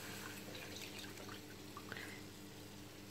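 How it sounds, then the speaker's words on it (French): Half a litre of milk poured into a béchamel of browned butter and flour, a faint steady liquid trickle with light drips over a constant kitchen hum. "Là, je vais ajouter un demi-litre de lait."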